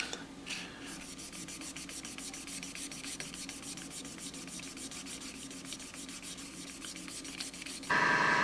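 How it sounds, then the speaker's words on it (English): Car clearcoat is wet-sanded by hand with a 3000 grit sponge, giving a steady, rapid back-and-forth rubbing scrape, close and continuous, with a brief louder hiss at the end. "This is a 3000 grit sponge here."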